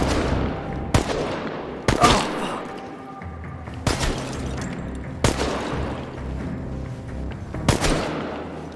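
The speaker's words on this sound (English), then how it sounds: "Open fire! Get behind cover and shoot!" Gunfire in the video game Chernobylite comes as a series of loud, sharp shots spaced a second or two apart, with echoing tails and a low rumble between the bursts.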